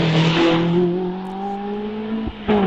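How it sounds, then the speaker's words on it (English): A Caterham 7 race car at the Doune hillclimb in the British Championship, its engine close and loud with a strong tonal drone that holds, drops briefly near the end, then picks up again. "This is Caterham 7."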